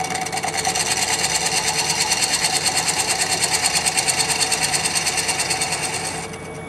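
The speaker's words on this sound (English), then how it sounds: "I'm going to crank up the lathe at about 400 or 500 RPMs" A wood lathe spins at about 400 to 500 RPM while a bowl is hollowed, giving a steady rhythmic whirring hum with fast regular pulsing, close and loud, easing off near the end.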